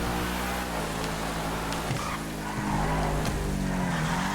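Vapid Caracara 4x4 off-road truck in GTA Online drives with a steady engine hum, brief tire scrubs and shifts in pitch as it turns, moderately loud and continuous.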